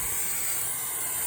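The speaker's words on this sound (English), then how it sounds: "It's a nice and luscious sort of amount that we spray on there." Steady hiss of galvanising metal-protection paint sprayed from an aerosol can onto a welded light bar, a continuous close, loud spray with no break.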